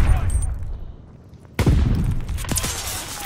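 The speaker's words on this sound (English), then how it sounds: "I'm gonna shoot a rocket" A rocket fires in an online shooter game: steady battle noise, a brief lull, then a sudden sharp blast with a crackling, booming tail and further gunfire bursts, loud and close.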